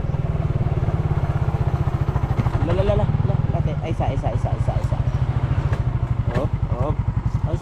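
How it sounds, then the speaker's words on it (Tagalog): Hand-started outboard motor on a small wooden boat, a rapid close chugging engine rhythm running throughout while a voice speaks over it. "mahirap tong motor mga idol, kailangan tawag dito, gamitin talaga ng kamay"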